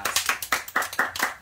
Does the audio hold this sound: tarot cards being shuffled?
no